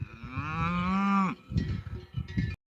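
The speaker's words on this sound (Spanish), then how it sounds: "Ahí viene el animal bramando, porque la vaca perdió la pista aquí, a la carretera." A cow bellows loudly and close by on open plains, one long drawn-out moo lasting over a second, followed by shorter rough calls and some noisy outdoor handling sounds.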